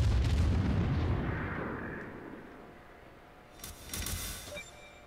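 Naval gunfire in the World of Warships video game, a deep rumbling boom that slowly fades, then a second burst of crackling impacts and splashes, loud and close, no talk.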